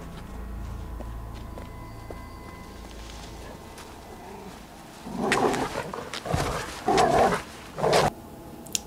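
A dog in a John Wick Chapter 4 scene gives several loud barks in quick succession over the second half, following a quieter stretch of movie ambience and music.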